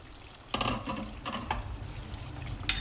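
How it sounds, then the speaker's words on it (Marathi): Boiled hot water poured into a pan of spicy Nagpuri Saoji mutton curry cooking in oil and masala, giving a close splashing gush with sizzling and stirring that rises suddenly and then settles into a steady bubbling. "आता मी हे उकळलेलं गरम केलेलं पाणी टाकत आहे, म्हणजे भाजी लवकर शिजते."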